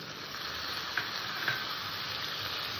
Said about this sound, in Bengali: মাছ আলু দিয়ে আমি আবার একটু কষে নেবো হালকা করে